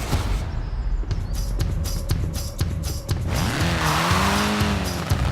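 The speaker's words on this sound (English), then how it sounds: "A spot of rallying in the most British car of them all." Rally car in Forza Horizon 4, a British-built classic: loud engine revving with rapid clicking and gravelly tire noise, then tires squeal through a skid while the engine pitch rises and falls, no talk.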